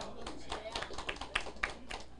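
Scattered hand claps from a few people at a political lecture, a quick uneven patter of soft taps under a speaking voice, brief and fairly faint.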